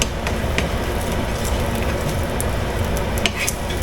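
An egg frying in a pan for a Filipino breakfast, crackling in a steady, dense sizzle with a few sharper pops and light clinks. It stays close and continuous throughout, with no talking.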